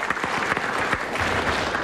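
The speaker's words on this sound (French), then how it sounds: "Et les applaudissements de la grande salle dans laquelle nous sommes aujourd'hui," Audience applause fills the Bobino theatre hall in Paris during a radio comedy show anniversary, brisk clapping at moderate volume, with sharp individual claps standing out near the start before it settles into even applause.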